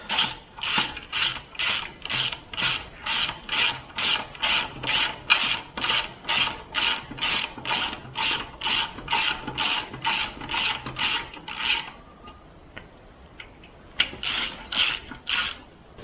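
Ratchet wrench snugging down the sump bolts on a Jaguar S-Type V8 engine, with loud, close, rhythmic bursts of clicking strokes, a short pause, then a few more strokes.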